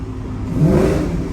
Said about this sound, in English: just listen to that. An equal length exhaust.